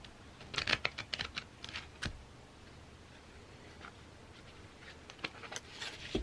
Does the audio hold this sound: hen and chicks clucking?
no